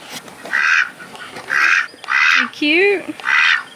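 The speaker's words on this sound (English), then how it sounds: "He's quacking." Drake duck quacking on a farm, four or five loud close quacks in an even rhythm, with someone speaking and a short squeaky vocal between them.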